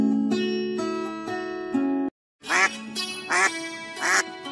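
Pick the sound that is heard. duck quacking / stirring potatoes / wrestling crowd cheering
duck quacking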